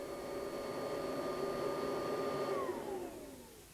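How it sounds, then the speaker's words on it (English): A household vacuum cleaner runs on a carpet with a loud, steady whirring drone, then winds down with a falling pitch near the end. "To test vacuum cleaning on a real carpet with ordinary household dirt, a scientist might use a special vacuum cleaner"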